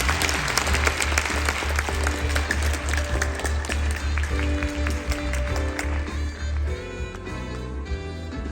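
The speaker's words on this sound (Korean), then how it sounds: "모두 박수 부탁드립니다." An audience applauds at an award presentation during a children's choir concert, with dense clapping over a sustained low musical drone and soft tones that continue beneath it throughout.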